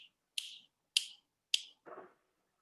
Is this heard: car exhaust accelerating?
no